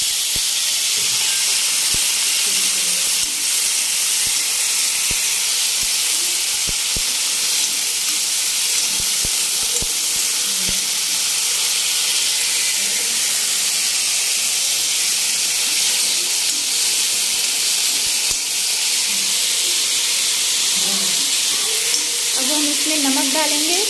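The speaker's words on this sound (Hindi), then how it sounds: "और ये आलू को हम फ्राई कर लेंगे।" Potatoes frying in oil in a pan for sabudana khichdi, a loud, continuous hiss of sizzling with scattered faint clicks and a brief voice near the end.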